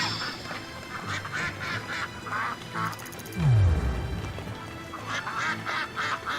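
Ducks quacking in the video game Shenmue III: repeated nasal quacks at a lively rhythm, fairly close, with a sharp low swooping game effect midway and more quacks after it.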